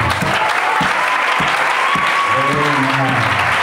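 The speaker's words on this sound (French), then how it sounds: "On acclame Jésus." Church congregation clapping steadily and loudly throughout, with voices and cheers rising over the applause toward the end.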